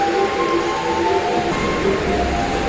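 Pandanwangi local passenger train pulling into Jember station, a steady loud rolling rumble with a sustained whining tone running throughout, no voices.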